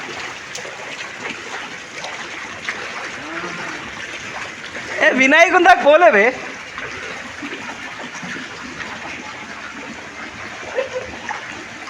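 Floodwater runs knee-deep through the Ayyappa temple in Kamareddy and nearby houses, a steady broadband rush lasting throughout, with someone talking loudly over it partway through.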